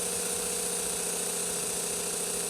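A Berdair pump motor runs under PWM signal control. It gives a steady, close, pulsing electric hum with a fine rhythmic throb and no talk.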